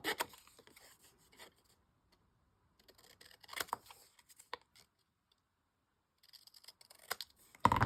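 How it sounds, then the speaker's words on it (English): Scissors cutting out paper tags for a junk journal, with quiet, close, crisp snips and rustles in two short clusters separated by near-silence, no talking. "When you cut them out, I usually just start by cutting them in a rectangle."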